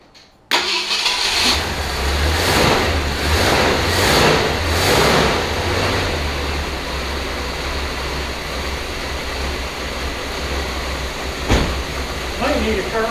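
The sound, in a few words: 1966 Ford Galaxie 500 engine starting and running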